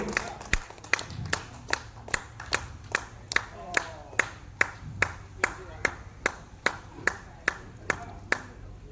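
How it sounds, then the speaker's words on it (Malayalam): An audience claps in a slow, steady, unified rhythm for a first-place winner, sharp distinct beats in unison about once a second, close and fairly loud over faint background murmur. "എല്ലാവരും കൈയടിച്ച് അപ്പോഴെ ഒന്നാം സ്ഥാനത്ത് ഹരം കിട്ടുള്ളൂ"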